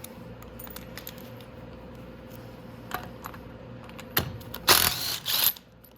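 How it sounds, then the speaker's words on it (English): A hand ratchet works on the rear axle nuts of a Venom Mini Jeep 125cc, giving a few scattered metallic clicks before a louder, close burst of rapid ratcheting near the end, with no voices over it. "If you just have a ratchet to take these off"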